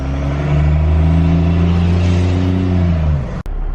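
A second-generation Cummins diesel truck under way, its engine droning loud and close with a low, steady tone that slowly rises, then drops off abruptly near the end, with a sharp click just after.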